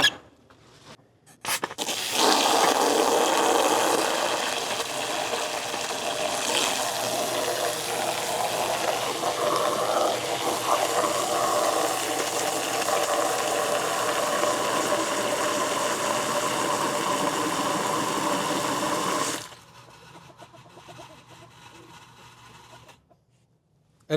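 A Harbor Freight water pump runs with a steady, rattling mechanical hum for most of the stretch, then kicks off abruptly, leaving only faint background noise.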